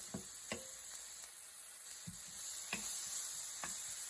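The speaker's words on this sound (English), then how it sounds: "add some recaito, and we're going to cook it." Recaito cooking in a pan with peppers gives a low, steady sizzle with a few soft clicks and taps of a utensil against the pan, close but quiet.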